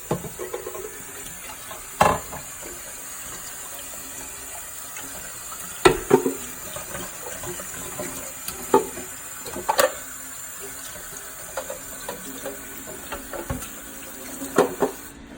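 Part of a Torus T5500 juicer rinsed under a running tap, a steady hiss of flowing water broken by irregular splashes and knocks as the piece is turned and handled in the sink.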